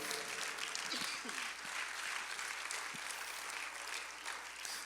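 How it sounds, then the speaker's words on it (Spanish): A church congregation gives a steady wash of applause during an afternoon service, fairly faint and continuous, with a few brief voices mixed in. "Dale una ofrenda de palmas al Señor en esta tarde."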